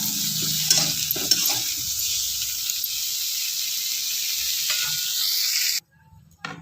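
Cabbage and potatoes fry in a pan with a steady hissing sizzle and occasional stirring scrapes, then the sound cuts off abruptly near the end, leaving a few faint clatters.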